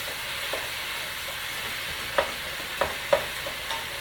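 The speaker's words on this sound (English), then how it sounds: "We're keeping this on high heat. You want the vegetables to remain and have a little bite of crisp to it. So we're going to keep on stirring." Vegetables for pepper steak fry over high heat in a pan, a steady sizzle broken by several light scraping stirs, close and without talk.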